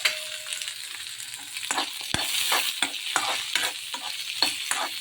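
Masala spices dry roasting in a pan, a steady close crackling hiss broken by regular scraping stirs of a spatula across the metal, fairly loud and with no voices.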